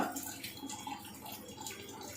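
Steady stream of water running from an Enagic Kangen water ionizer, a continuous close splashing flow with no speech over it.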